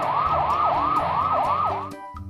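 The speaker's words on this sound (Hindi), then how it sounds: "फूड इंस्पेक्टर और पुलिस सायरन बजाते हुए जीप में वहां पहुंचते हैं।" A police jeep's wailing siren sweeps up and down rapidly in a steady repeating pattern, loud and close, then cuts off as engine rumble continues.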